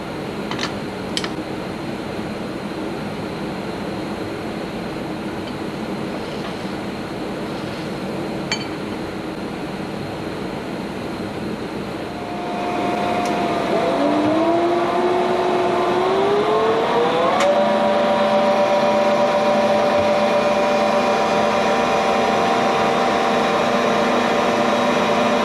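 An old lathe machines a motor roller to a tolerance of about 0.04 mm. The motor hum rises as it spins up partway through, then holds a steady, fairly loud whining tone, with a few light clinks before it.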